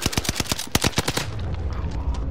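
Rapid automatic gunfire from a first-person shooter video game rattles out in a fast burst of sharp, loud shots, then drops to a low background rumble and scattered faint game sounds.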